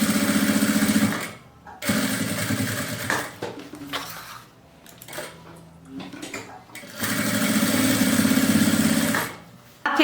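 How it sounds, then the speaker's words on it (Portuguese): A sewing machine with a presser foot runs in bursts, stitching a straight seam on fabric: fast, even mechanical whirring that stops and restarts several times, near and fairly loud, with quieter handling noises in the pauses. "Essa costura que a gente vai passar é uma costura reta com um pezinho de máquina"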